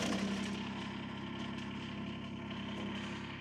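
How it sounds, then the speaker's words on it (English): A Kubota BX23S tractor engine runs steadily at a low idle-like drone, close and continuous, with no talking over it. "when I start the tractor and lift it"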